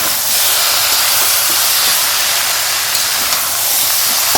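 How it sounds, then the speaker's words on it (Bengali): Curry boiling in a pan gives off a steady, loud hiss and sizzle with faint bubbling, continuous and close, with no voices. "এইদিকে এই তরকারিটা ফুটে গেছে"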